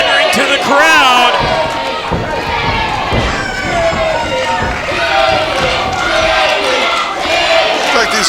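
A wrestling crowd chants and yells at Sergio Santana during a PCW tag match, a loud, dense, rowdy chorus with shouts rising over it and a few thuds from the ring.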